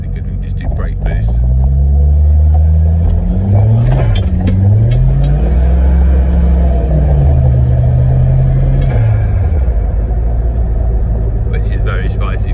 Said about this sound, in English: we can just do brake boost